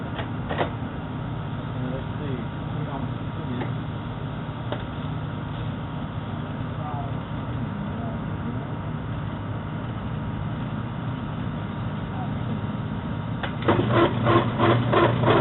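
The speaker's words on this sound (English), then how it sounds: "Motor's turning." A Whirlpool washing machine's transmission motor turns with a steady mechanical hum and whir, fairly constant throughout, rising slightly louder near the end with some rattling; a voice speaks briefly over it.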